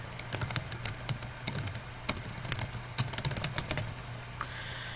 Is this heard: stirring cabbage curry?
no